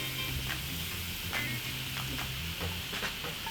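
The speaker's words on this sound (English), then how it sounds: "I just want to stir fry these for a minute or so until those vegetables are still nice and crispy" Prawns and vegetables stir frying in a pan, a low even sizzle with a few faint stirring taps, quiet and close.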